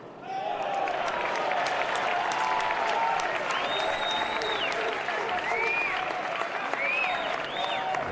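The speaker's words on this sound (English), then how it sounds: "The Georgia crowd that is here is getting into it" A Georgia crowd applauds steadily at a college baseball regional game in Athens, a dense wash of clapping sustained throughout with scattered whistles and cheers rising above it.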